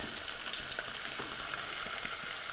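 Jalapeno peppers, minced garlic and chopped onions fry in a hot pan on the stove, giving a steady dense sizzle with scattered small pops and crackles throughout, close and fairly loud, with no talking.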